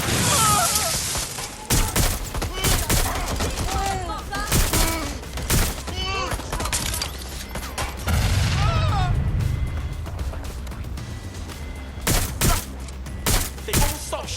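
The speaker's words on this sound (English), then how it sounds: "they won't stop shooting." Gunfire rattles through a Watch Dogs: Legion rescue mission as loud bursts of shots and booms. Game voices talk over it throughout.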